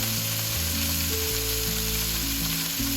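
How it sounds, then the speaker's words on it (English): Beef pieces browning in hot oil in a Dutch oven for Hungarian goulash, a steady close sizzle and crackle running the whole time, with a musical tone playing faintly over it and no talking. "Once the oil is really hot, I carefully add those pieces one by one,"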